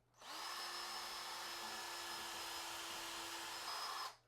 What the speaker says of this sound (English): Now I've come across something metal probably back there. It's not wanting to drill in.